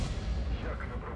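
Artillery fire in a tank video game, a dense low boom and rumble filling the moment, with a voice speaking over it.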